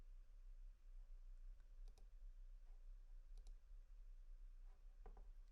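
A computer mouse clicking a few times, faint isolated clicks spaced a second or more apart against a quiet low hum.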